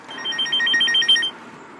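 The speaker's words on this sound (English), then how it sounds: "Is that your phone ringing?" A mobile phone ringtone trills in a steady repeating pattern of short chirps for about a second, fairly loud and close, then cuts off.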